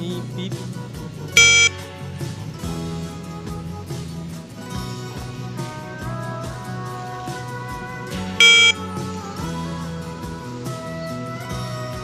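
An Arduino NodeMCU trash bin monitor reports a full bin with two short, sharp electronic beeps several seconds apart, heard over continuous background music.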